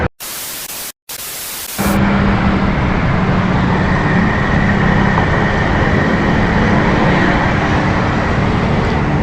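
Loud, steady rumbling roar of a passing train mixed with congested traffic noise on an Indonesian city street, continuous and close, preceded by a couple of brief noisy bursts.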